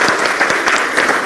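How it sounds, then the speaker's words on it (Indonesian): A church congregation applauds together during a sermon, a dense steady wash of many hands clapping close by with no voices on top. "Yang setuju tepuk tangan dulu"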